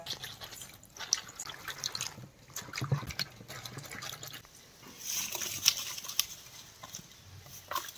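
Rice-washing water poured onto a green chilli plant, giving soft trickling and dripping splashes that come in uneven bursts, quiet and close, with a brief stronger pour toward the end.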